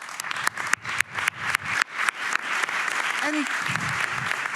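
An audience applauds the project teams after a pilot presentation, first with a few sharp separate claps that quickly swell into full, steady applause, while a voice speaks briefly over it.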